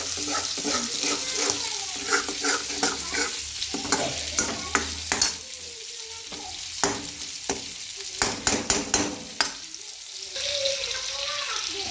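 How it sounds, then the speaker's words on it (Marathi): Marinated fish and masala paste fry in hot oil, a steady crackling sizzle broken by repeated stirring scrapes and clinks of a spatula against the pan, close and fairly loud throughout. "तेल सुटेपर्यंत आपण मसाला परतून घेतलेला आहे"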